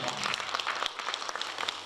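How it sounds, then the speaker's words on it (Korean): An audience applauds at a Korean panel presentation, steady clapping from a crowd that continues throughout, with a voice speaking over it. "발표해 주신 우리 강남문 이사장님께 다시 한번 큰 박수 부탁드리겠습니다."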